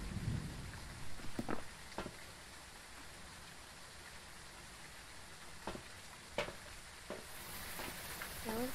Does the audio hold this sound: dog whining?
no